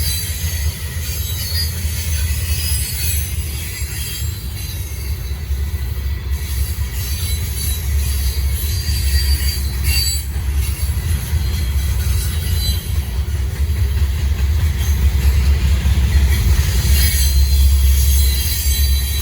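A Norfolk Southern freight train rolls past with a mid-train DPU locomotive, a loud continuous rumble of wagons with low engine drone and metallic wheel squeal and rattle, close by and unbroken for the whole stretch, no voices.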